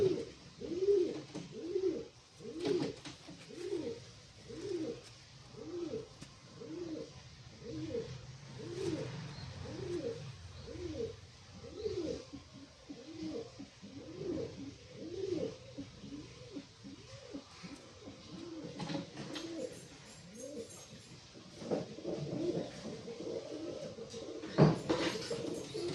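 Pigeons cooing in a loft, including a medium-sized male, with repeated soft, throaty coos in a steady rhythm throughout, close and moderately loud, plus a few brief rustles and flutters near the end.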